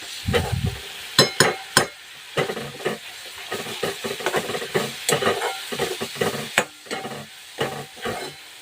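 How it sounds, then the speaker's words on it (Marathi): Bitter gourd curry gravy roasting in a pan, with repeated spatula scrapes and stirring knocks over a soft, steady sizzle, close and fairly quiet throughout. "आता ही ग्रेव्ही छान अशी चार ते पाच मिनटं भाजून घ्यायची व्यवस्थित"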